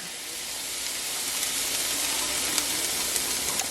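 Chopped onion and minced garlic sizzle in a hot pan for Salisbury steak gravy, a steady, even frying hiss close by with a few faint pops and no talking.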